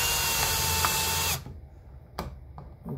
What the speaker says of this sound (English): Okay, I got my drill here. Speed up the process.